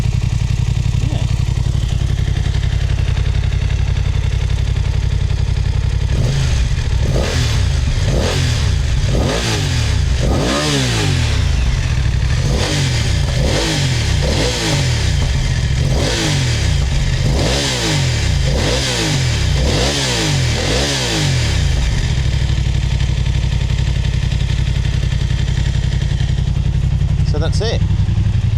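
Motorcycle with a quieter exhaust warming up, settling into a steady idle before a run of repeated revs in the middle, then easing back to idle; close, loud and continuous.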